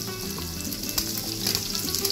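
Lamb sweetbreads and garlic fry in a hot pan, giving a steady, close sizzle with crackling pops that swell slightly as the garlic goes in; no one talks.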